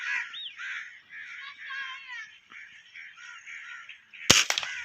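Diana 34 airgun fired at a dove outdoors: one sharp crack near the end of the clip, after several seconds of loud crow-like cawing and bird calls.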